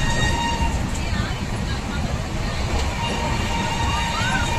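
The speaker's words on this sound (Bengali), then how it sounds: "এই যাত্রার এখন থেকে শুভ সূচনা হলো, মানে ট্রেন যাত্রার।" A passenger train sets off from Howrah toward Asansol, with a continuous rolling rumble and clatter heard from inside the carriage and faint murmur of people around.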